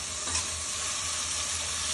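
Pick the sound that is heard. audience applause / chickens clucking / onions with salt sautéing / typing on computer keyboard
onions with salt sautéing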